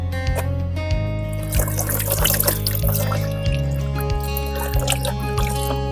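Water is poured and trickles while a filaria patient's foot is washed, giving a soft, steady dribble and light splashing close by, under a faint background tone.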